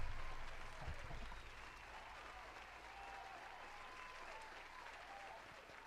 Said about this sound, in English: keep it going.